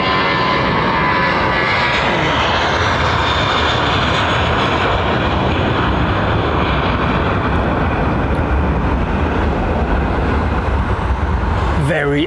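Finnair single-aisle jet at London Heathrow, an older airframe near 30 years of age, its engines giving a loud, steady broadband roar that holds throughout with no talk over it.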